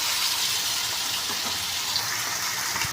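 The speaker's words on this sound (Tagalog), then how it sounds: "Tapos ito sinalang na natin yung tubig." Water pours steadily into a cooking pot for sinigang of pink salmon head with shrimp, a close, even gushing rush that runs without a break for the whole moment.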